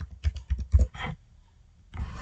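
A computer keyboard is tapped in a quick burst of close, soft keystrokes, then falls briefly quiet before a few more clicks.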